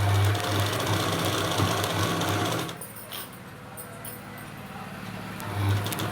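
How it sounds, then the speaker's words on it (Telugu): A sewing machine top stitches a dress with a thick presser-foot seam, running loudly and steadily for about half the time, then stopping, with a brief burst of stitching returning near the end. "ఒక పాదం మందం పెట్టి మొత్తం స్టిచ్చింగ్ చేసుకోవాలి."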